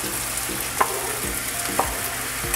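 Tomato, spring onion and green and red peppers fry in a pan with a steady soft sizzle, while a utensil stirs and scrapes the pan about once a second.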